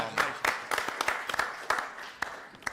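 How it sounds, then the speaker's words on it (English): Applause breaks out at a county commissioners meeting, scattered individual claps that build into a short ragged round in a room, with a murmur of voices underneath. "applause."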